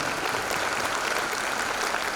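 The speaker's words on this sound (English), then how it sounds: "Let's give them a round of applause again." Dense, steady applause from a luncheon audience at the Port Arthur Education Foundation State of Education event, a brief continuous wash of many hands clapping with no voices.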